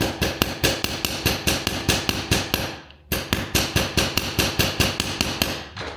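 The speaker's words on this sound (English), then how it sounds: "keeping it straight as I hammer" A hammer strikes a metal tensor bangle in a fast, even rhythm of sharp ringing blows, close and loud, pausing briefly for a moment midway before the steady hammering resumes.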